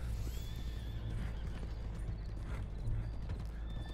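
Horse whinnying over steady clip-clopping hooves in the Red Dead Online video game, a continuous game soundscape with a couple of high neighs riding on top of the rhythmic hoofbeats.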